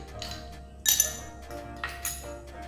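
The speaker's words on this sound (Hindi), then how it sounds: "एक गिलास में हम थोड़ा सा आइस डालेंगे।" Ice cubes clink into a glass for a mango milkshake, two bright close clatters of ice against glass over a quiet room with no talk.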